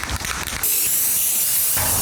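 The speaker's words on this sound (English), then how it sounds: "Now we're gonna spray it with some primer." Spray primer hisses from an aerosol can onto a large plastic water barrel, a loud close continuous spray starting after a few faint clicks and running steadily to the end.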